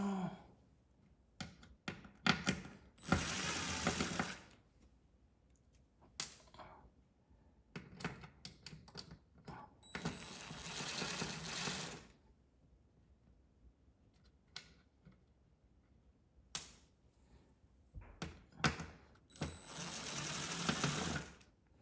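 Power screwdriver taking screws out of a circuit board in a Vizio D50u-D1 4K LED TV, with several separate loud whirring bursts and quiet handling noises in the gaps.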